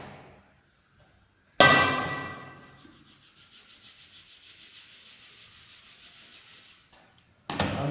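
Sand is shaken through stacked laboratory sieves, number 16 over number 30, for a field dry density test: a sharp clank, then a steady rhythmic rasping shake of grains lasting several seconds, ending with another clank.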